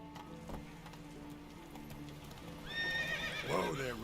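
Roach, Geralt's horse in The Witcher 3 game, gives a loud whinnying neigh near the end after quiet hoof clip-clops, with game ambience underneath.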